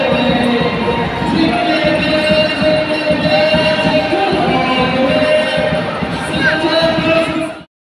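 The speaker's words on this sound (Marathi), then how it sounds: "तर त्यांच्या मागे मागे गर्दी देखील खूप जमा." A dense, loud crowd fills an indoor mall as it trails a Santa parade, steady chatter and cheering voices blending into a constant roar with occasional shouts.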